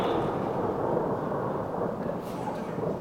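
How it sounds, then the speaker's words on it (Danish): A broad, steady rumble of thunder fills the whole stretch, loud and sustained with a slight fade near the end, heard alone without voices. "God torden."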